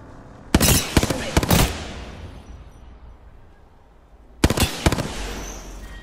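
Gunfire in Apex Legends comes in quick clustered bursts of cracking shots, one group early and another near the end, loud over a quiet in-game background with little talk.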